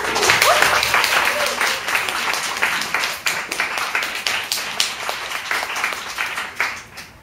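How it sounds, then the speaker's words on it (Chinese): An audience at a film talk in Taichung claps to welcome the lead actor of Pick Youth, a former boy-band singer. The clapping is lively and uneven and thins out toward the end. "各位观众，准备好你们的掌声，让我们欢迎《皮克青春》的男主角"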